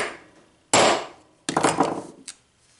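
Two sharp, loud metallic hammer strikes on a hole punch, close up, each ringing briefly before fading, followed by a softer tap.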